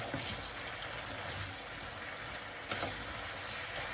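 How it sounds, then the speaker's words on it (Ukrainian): Vegetables sautéing in a pan for chicken baked in a pumpkin, giving a steady, close sizzling hiss throughout with a few small pops and no talk. "Нехай пасірується."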